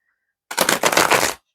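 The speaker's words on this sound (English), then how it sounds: "I'll give them another couple of shuffles before we" A deck of tarot cards riffled in a single quick shuffle, a close, crisp burst of rapid fluttering card flicks lasting about a second after silence.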